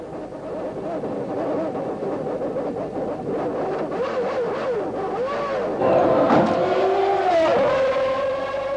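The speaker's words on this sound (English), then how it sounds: "Listen to his engine spluttering." A 1991 Williams Formula 1 car's engine splutters and wavers, its rough pitch dipping and surging close by while another race car's scream sweeps past near the end, over crowd and track noise.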